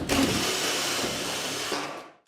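A Grip-Lok autofeed screw tool whirs steadily for about two seconds as its nose stem is adjusted, a loud, continuous motor-like hum that cuts off abruptly.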